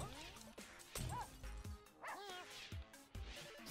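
Dogs in a Russian subway bark and yip repeatedly in short bursts, with a whining upturned yelp in the middle, all close and loud amid a busy, echoing background.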